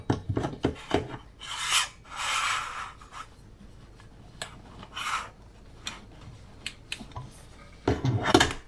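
A curtain rod bracket screw is loosened and a curtain panel slid onto the rod, heard as close, scattered scraping and rubbing bursts with small clicks and quiet gaps.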